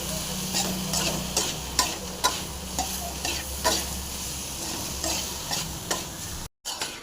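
Brinjal fry being stirred in a pan with chilli powder and sambar powder, a steady sizzle broken by repeated rhythmic scraping strokes of a spatula, close and clear with no talking.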